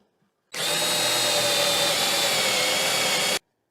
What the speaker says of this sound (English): drill some holes in these pivot arms